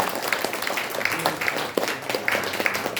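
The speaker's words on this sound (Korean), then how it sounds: "박수 한번 드리겠습니다." Applause at a Korean commemorative ceremony, scattered crowd clapping of moderate level with irregular sharp claps mixed in, some faint voices underneath.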